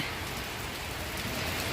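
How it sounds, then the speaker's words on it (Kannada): Heavy rain pours steadily outside a truck shed, a dense, continuous roar of falling water with no breaks and no voices. "ಫುಲ್ಲು ಮಳೆ"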